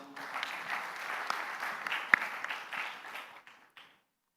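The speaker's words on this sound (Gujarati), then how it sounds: "જરાક તાળીઓથી વધાવી દો" An audience at a Swaminarayan religious discourse claps in sustained applause for a few seconds, a few sharper claps standing out, then it fades quickly into silence.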